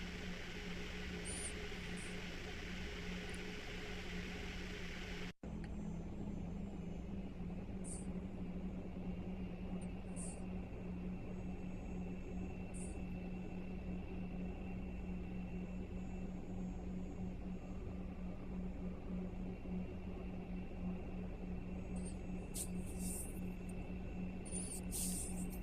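A FlyJSims Dash 8 taxis toward the runway at Albuquerque in X-Plane 11, with a steady, faint turboprop drone and hum, faint high ticks and clicks scattered over the engine noise.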